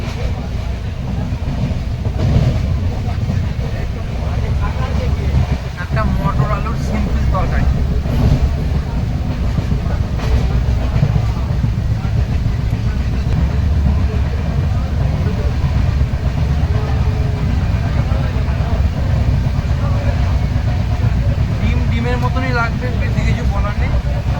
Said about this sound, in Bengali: ট্রেন নবদ্বীপ ধাম স্টেশন থেকে ছেড়ে বেরিয়ে যাচ্ছে